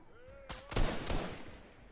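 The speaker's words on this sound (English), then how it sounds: "Getting shot at, but I don't know where from." Gunfire in a video game comes as a quick cluster of sharp cracks, several shots bunched within about a second, at moderate distance in a squads match against bots.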